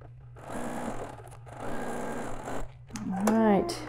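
A sewing machine stitches quilt block fabric in two steady whirring runs with a brief pause between, followed by a voice speaking close by at the end.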